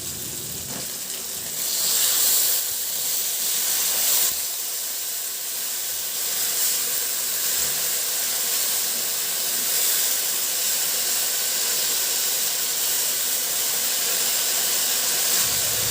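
Oyster sauce hits a hot pan of squid adobo and gives a loud, steady hiss that swells briefly near the start and then holds evenly throughout.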